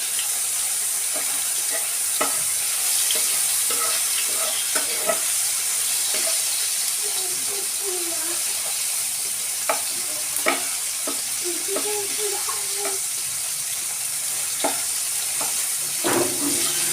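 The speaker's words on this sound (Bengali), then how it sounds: "টমেটোগুলোকে ভালো করে ভাজা ভাজা করব।" Tomatoes sizzle steadily in a pan, with scattered clinks and scrapes of a spatula stirring them, close and alone with no talking.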